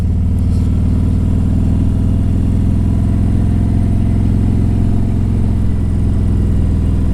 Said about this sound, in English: this motor wants to run. 2017 Road King Special.